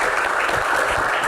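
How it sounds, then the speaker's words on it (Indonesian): A studio audience at an Islamic Q&A television show breaks into a short, full burst of applause lasting little more than a second. "Tepuk tangan dong."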